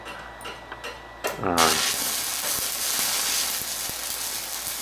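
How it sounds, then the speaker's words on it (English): Stick welding with SMAW while hardfacing AR-400 plate: a few sharp taps come first, then a loud, steady crackling hiss sets in and runs to the end, with talk also present. "I've just included some footage here where we're welding"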